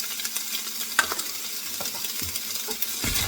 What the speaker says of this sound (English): Now it's been frying it for a couple of minutes.